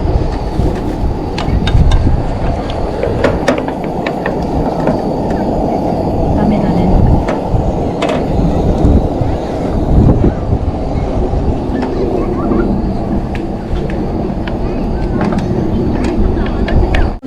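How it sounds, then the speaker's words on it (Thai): Strong wind at a forest campsite in Chiba, Japan, roars steadily and buffets close to the microphone for the whole stretch, with occasional clatters and people talking over it. "ลมแรงมากอะทุกคนวันนี้"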